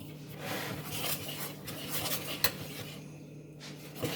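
A big spoon stirs sourdough starter in a bowl, making soft scraping and rubbing sounds with light clinks against the sides, close by, and a sharper knock near the end.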